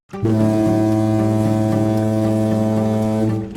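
Ship horn sound effect for a seafaring video game: a single sustained, loud low horn blast with stacked steady tones, holding for about three seconds before cutting off, with no voices.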